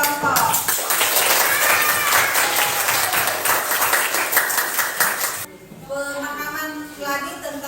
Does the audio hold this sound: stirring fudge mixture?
no